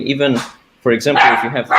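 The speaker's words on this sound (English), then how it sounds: "sorry, that's my dog." A pet dog barks in a home during an online chat, a few sharp nearby yips and barks mixed in with someone talking over them.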